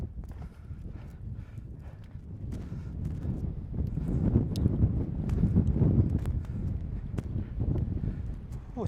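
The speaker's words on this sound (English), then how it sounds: "Oh, it's a bit windy." Wind gusting across a deserted tidal island, a steady low buffeting rumble that swells in the middle and stays loud throughout, with wind noise hitting the microphone.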